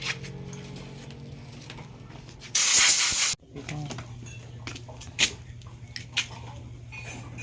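Aerosol cleaner sprayed onto a heavily carbon-fouled car air-conditioning part: a loud, steady hiss bursts out for about a second amid handling noises, with a voice talking before and after.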